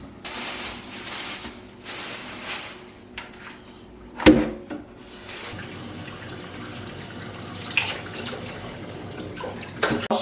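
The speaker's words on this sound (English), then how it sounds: "Wash my meat." Tap water running over beef and oxtail being washed in a kitchen sink, a steady broadband rush with brief clatters and a sharp knock midway, no talk.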